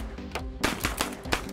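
Shotguns firing at Crazy Quail clay targets thrown from a machine, a rapid run of sharp nearby blasts spaced closely together, with several loud reports cracking out over an outdoor range.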